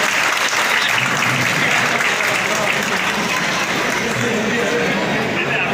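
An audience at a Kheda district police ceremony honouring a retiring police inspector applauds in a dense, steady wash of clapping that carries unbroken for several seconds.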